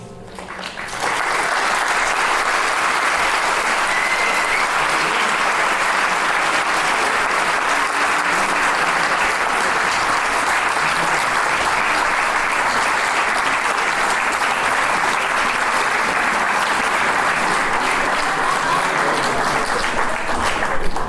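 Sustained, dense audience applause at an improv theatre challenge show, rising almost at once and holding steady and loud for about twenty seconds with no break.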